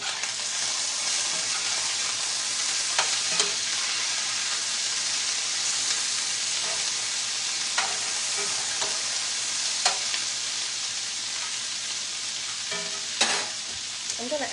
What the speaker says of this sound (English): Gonna get a little noisy for just a second.